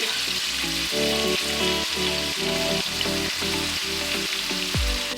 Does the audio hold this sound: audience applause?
no